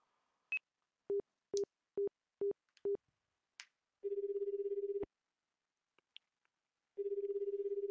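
Several short electronic beeps sound as a number is dialed in the Persona 2 Innocent Sin video game. Two long ringing tones follow, separated by a pause and a few faint blips, all quiet and without talk.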